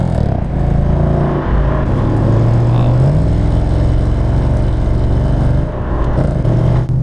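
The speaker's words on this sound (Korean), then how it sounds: "저는 이 자동차 배기음의 묵직함이 정말 좋아요" Deep muscle car exhaust rumbling loud and close, a heavy low idle that swells into revs a couple of times before settling back.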